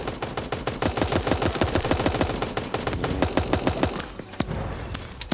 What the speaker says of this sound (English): Oh, people off to our right shooting.